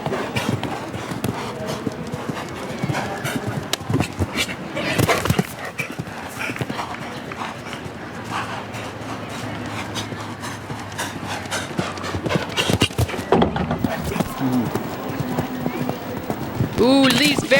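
Show jumping horse cantering in a grand prix arena, with rhythmic hoof thuds on the footing and occasional louder impacts, heard under continuous commentary.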